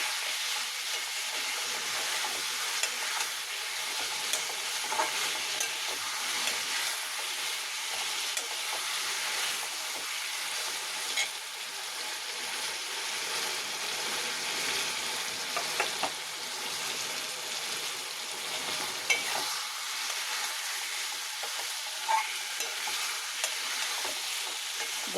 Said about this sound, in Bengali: ভাজা ভাজা হয়ে গেছে, এবার আমি মশলাটা দিয়ে দিই